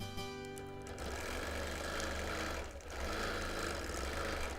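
A sewing machine doing free-motion quilting on a birthday quilt runs as a continuous close, even mechanical hum with a buzzing motor tone throughout and no voices.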